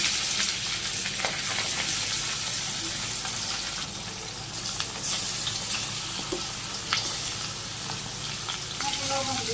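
Fish rubbed with turmeric, chilli and salt frying in oil in a Bangladeshi village kitchen, giving a continuous close hiss and sizzle with faint splashy, watery sounds mixed in.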